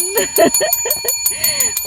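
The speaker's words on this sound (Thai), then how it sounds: "กระดิ่งทำไมเบาจังล่ะ" A small bell rings with a steady, thin sustained tone, fairly quiet and held throughout, while a person talks over it in Thai near a cassava field harvest.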